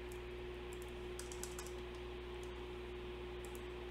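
Quiet, irregular clicking of keys on a computer keyboard being typed on, faint tapping scattered over a steady background hum, no talking.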